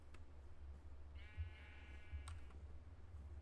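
A single drawn-out sheep bleat from the Minecraft video game, a faint wavering cry lasting about a second over a steady low background hum, with no talk.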